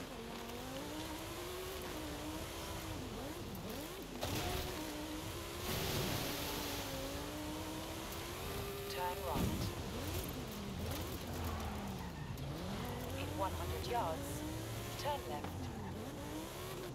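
A Lamborghini racing in Forza Horizon 5, its engine revving and shifting pitch steadily throughout with tire noise, mixed under game sounds and talk.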